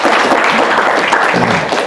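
An audience applauding continuously at close range, a dense, loud wash of clapping that fills the short moment without letup.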